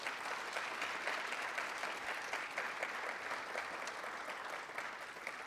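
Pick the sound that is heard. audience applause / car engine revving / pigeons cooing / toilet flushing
audience applause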